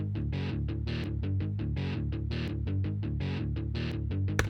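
Progressive metal guitar riff in drop D, played back in Guitar Pro: a dense, loud, chugging riff with rhythmic palm-muted bursts and sustained low chords, steady throughout with no talking.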